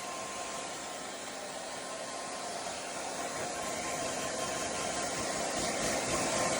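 A blow dryer runs steadily on a cool, unheated setting, a loud constant rush of air held close for several seconds with a faint tonal whine in it.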